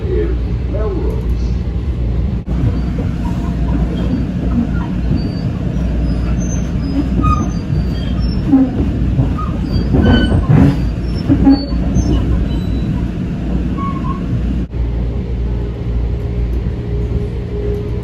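Metro-North Harlem line M7 electric train riding the rails toward North White Plains, a steady low rumble of wheels and motors with faint squeals and clicks throughout, heard from inside the car with occasional announcements over it.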